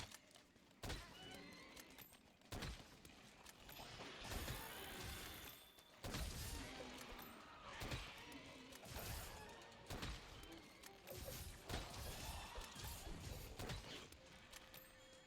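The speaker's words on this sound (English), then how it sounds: "These things sound like horses." Lizard-like creatures in the Monster Hunter World video game let out repeated horse-like whinnies and neighs, mixed with clopping steps and crashing impacts, fairly loud and continuous over the scene.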